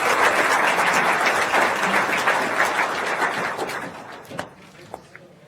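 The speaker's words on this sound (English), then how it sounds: "Another quick round of applause for all of the pitchers." An audience at a startup pitch night applauds the pitchers, a steady burst of dense clapping for about four seconds that thins out to a few scattered claps.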